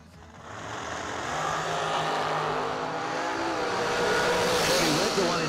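Drag racing cars roll into pre-stage at the start line of a summer drag meet, a steady, loud engine roar that swells after the first half-second and holds, with an announcer's voice faintly mixed in.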